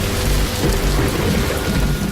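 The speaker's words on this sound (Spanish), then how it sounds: "la humedad cae en forma de lluvia torrencial" Heavy torrential rain pours steadily over the hills west of Thebes in Egypt, with deep rolling thunder rumbling throughout; loud, dense and continuous, with no voices.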